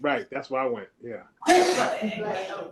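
A single sharp sneeze bursts out near the end, loud and close, after a few brief spoken words in a quiet committee meeting room.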